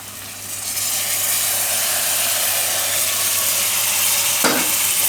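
Elephant foot yam (suran) going into a hot pan of sizzling tomato, a loud, steady hissing sizzle that swells as it starts and ends with a short knock of a utensil against the pan.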